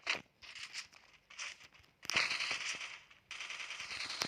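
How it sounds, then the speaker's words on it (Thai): M14 rifle fired in the Free Fire video game: a few sharp shot transients amid dense, loud crackling bursts of in-game noise, with brief gaps between volleys. "ปืน M14 มันเป็นปืนนัดเดียวนะครับ แต่นี้มันมีลั่นสองนะครับ"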